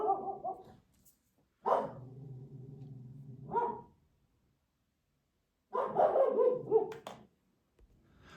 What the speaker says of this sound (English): He was out there barking at nothing, so I brought him in.